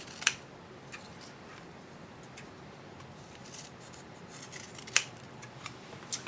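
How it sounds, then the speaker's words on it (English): Scissors cut strips of 100 mm GRIP IT kinesiology tape, giving two sharp, crisp snips several seconds apart and a light final click, close and alone in a quiet room. "making sure that you don't cut to the full length of the tape"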